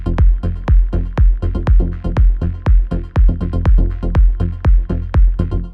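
Layered synth basses in a melodic techno mix, sidechained to a kick drum that thumps on a steady four-to-the-floor beat, dense and loud, with the bass pumping between kicks and no voices.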